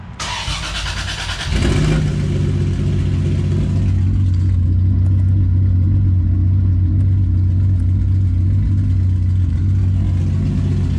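An IS300 car engine cranks briefly, catches, and settles into a steady, loud low idle that continues evenly without revving.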